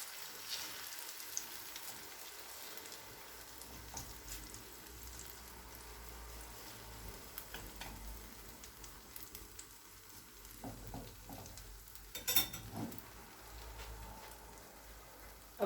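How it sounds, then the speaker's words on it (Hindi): Omelette egg mixture sizzles and fries steadily in hot oil in a pan, a continuous close crackle with a few louder spits and pops near the end, no voices. "अब इसमें ऑमलेट डाल देंगे। ऑमलेट को थोड़ा फैला लें।"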